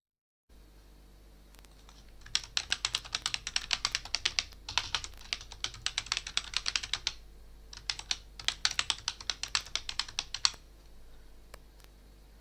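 Typing on a computer keyboard while entering login information: quick, close bursts of light key clicks in three runs separated by short pauses, with no voices.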